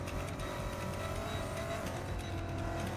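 A tuned Jeep Trackhawk is driven fast on a race track, heard as a steady loud engine drone with whining tones from inside the vehicle, continuous and without talking.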